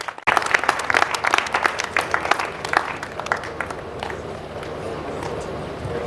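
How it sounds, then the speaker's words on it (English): An audience at a chairperson investiture gives a round of applause, with sharp separate claps at first that settle into a softer, steady patter. "Please, a round of applause for her once again."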